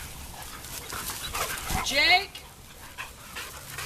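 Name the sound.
dog, a boxer, panting and whimpering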